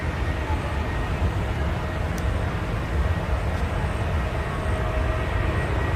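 A Southwest airliner at Nashville International Airport gives off a constant, loud, broadband engine roar from the taxiway or takeoff queue, steady and unbroken throughout.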